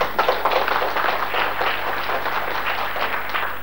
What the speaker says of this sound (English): I like to clap him.